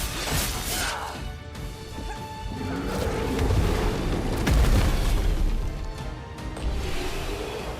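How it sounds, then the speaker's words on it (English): A heavy explosion in the turn-based battle video game Clair Obscur: Expedition 33 booms and crashes, rumbling loudly for several seconds amid dense combat effects. "It absorbed its own explosion."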